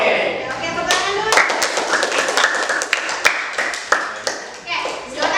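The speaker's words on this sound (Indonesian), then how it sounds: "Oke, tepuk tangan dulu." Crisp, rhythmic hand claps from a group ring out close by in a junior high school classroom group counseling session, mixed with children's voices calling along before the clapping trails off.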